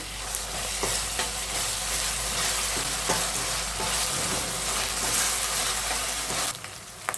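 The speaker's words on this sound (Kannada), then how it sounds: "ಅದನ್ನು ಸ್ವಲ್ಪ ವಾಸನೆ ಹೋಗೋ ತನಕ ಫ್ರೈ ಮಾಡ್ಕೊಳ್ಳೋಣ" Ginger garlic paste frying in a pan, a steady close sizzle with occasional stirring scrapes, loud and continuous throughout.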